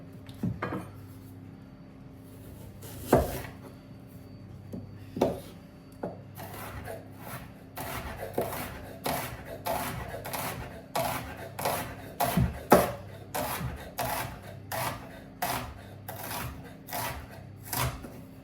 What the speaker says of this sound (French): on va commencer par émincer l'oignon